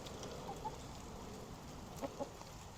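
Chickens cluck softly in an ice storm, with a few scattered clucks rising faintly above a constant wash of noise from the storm.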